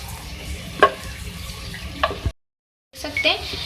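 Three medium onions sizzle and crackle in a cup of hot oil in a handi, a steady frying hiss broken by a few stirring scrapes and a brief silent gap before the sizzle resumes.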